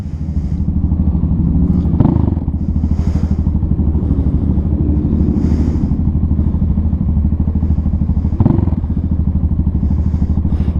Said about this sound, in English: I wanted to see how it's going to sound on the chopper.